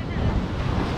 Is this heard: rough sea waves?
yes